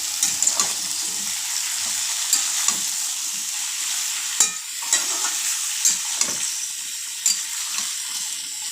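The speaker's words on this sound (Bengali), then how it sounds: "একটু নেড়ে ভেজে নিই সবজিটা।" Vegetables for sukta stir-fried in a pan, with a steady close sizzle broken by repeated scraping and tapping of a spatula at an uneven rhythm, with no talk.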